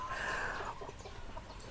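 Rhode Island and Black Australorp chickens cluck nearby, a brief burst of fowl calls that fades into faint clucks and low background noise.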